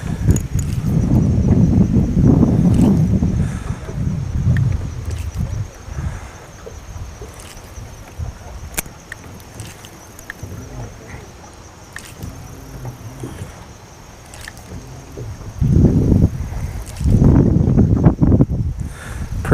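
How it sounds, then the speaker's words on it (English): Strong gusty wind outdoors by the water, roaring loudly in surges at the start and again near the end, with quieter rustling lulls between gusts and no talk. "Some strong gusts of wind, I imagine, still from that front that moved in."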